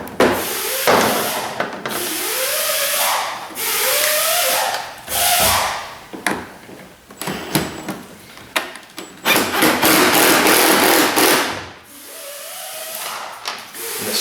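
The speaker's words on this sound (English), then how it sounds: "The screws are going to go in with a little bit of resistance at first because, well, if your box is new, this box is new, there's no threads cut in it." A power drill drives screws into a new, unthreaded HVAC box on a Dodge Ram heater core job, whirring in repeated strained bursts that rise in pitch, with short pauses and clicks between runs.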